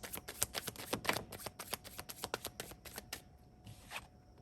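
Tarot cards being shuffled up close, a quick run of crisp riffling flutters and soft slaps, with a brief pause near the end, and no talking.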